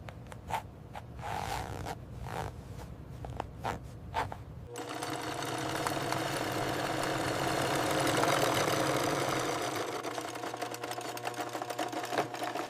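An industrial sewing machine stitches leather for handmade shoes in a shoe factory, starting with a few short bursts of stitching and then running in a steady, loud continuous whir.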